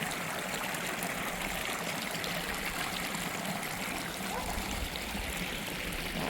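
Clean water trickling and burbling in a freshly cleared front garden water feature, a soft continuous flow heard alone at moderate level.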